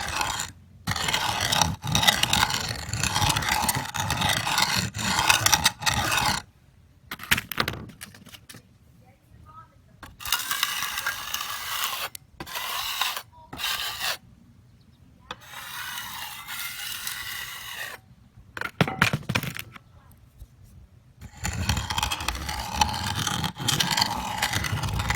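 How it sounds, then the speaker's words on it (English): A grinder works on sifted material in a rough, steady scraping roar. It runs in several long bursts broken by short silent gaps, close and moderately loud. "This is the grinding operation."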